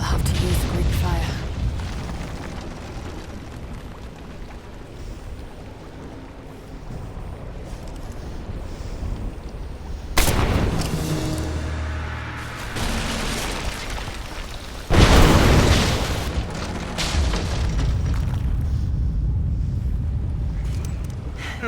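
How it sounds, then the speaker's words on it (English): Two heavy blasts from Greek fire vessels in Rise of the Tomb Raider, the first around ten seconds in and the second around fifteen, each a loud broadband burst with rumbling tail over a steady windy, watery ambience. "Looks like I'll have to use Greek fire."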